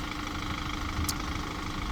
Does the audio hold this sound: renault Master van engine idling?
yes